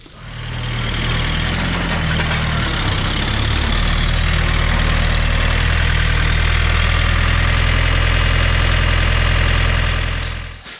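A John Deere 110 diesel tractor engine idles loudly nearby, a steady low rumble with a rough knocking chug throughout.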